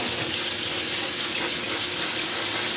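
Water runs steadily from a tap into a sink as strawberries are rinsed, a constant close hiss and splash with no voices.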